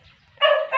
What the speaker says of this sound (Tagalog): Ito po yung aso namin na si Tisoy